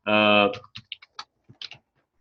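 A brief vocal tone is followed by scattered, irregular keyboard clicks, a handful of light taps spaced unevenly before fading out.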